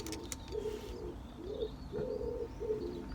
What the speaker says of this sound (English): The old pigeons cooing away there.